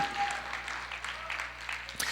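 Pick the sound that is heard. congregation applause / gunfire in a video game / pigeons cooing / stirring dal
congregation applause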